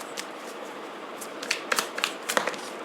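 Tarot cards being shuffled and drawn during a weekly Aquarius reading, a run of soft riffling and crisp papery snaps that grow sharper toward the end, close and alone with no talking.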